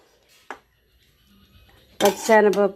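Chana dal dum biryani is stirred in a metal pot with a spoon: a single sharp clank, a quiet pause, then a burst of scraping and clattering metal near the end.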